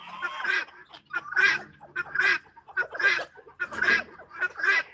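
Poultry call in a steady run of loud, harsh honking and squawking bursts, close and repeated about once every second, with rooster and hens in the mix.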